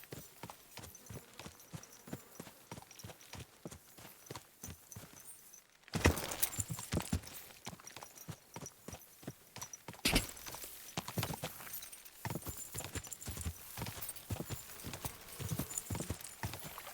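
Roach the horse walks in Kingdom Come: Deliverance II, hooves clip-clopping in a steady, even rhythm, close and clear, with a brief whinny-like flurry midway and louder hoof falls later.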